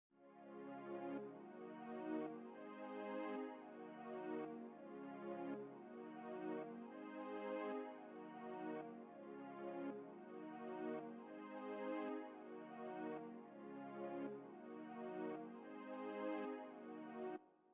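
Synth strings from the Purity plugin's strings patch in FL Studio, for a sebene beat, play sustained chords in steady repeating swells, loud and alone without talk.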